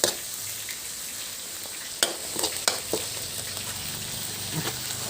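Minced tilapia drops into a simmering Thai curry in a pot, with a low continuous sizzle and bubbling, broken by a few sharp clinks and scrapes of a utensil against the pot.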